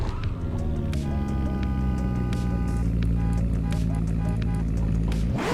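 A low car horn sounds on a driving simulator rig, a sustained deep tonal blare holding for several seconds over engine rumble before cutting off.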